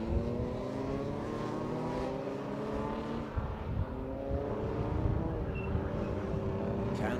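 Rallycross cars racing through a left-hand turn at a finals event, with loud continuous engine drone and rising and falling revs as the cars pass, steady and close with no talk.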